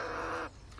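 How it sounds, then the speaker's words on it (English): A single bird call, harsh and crow-like, short and fairly close, fading out within a second. "Bird."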